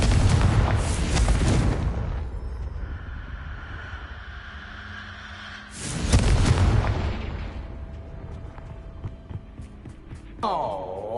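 Confringo blasting spells from the video game Hogwarts Legacy burst in two loud, broadband explosions, each decaying into a rumbling tail, followed by quieter game ambience and a rising magical tone near the end.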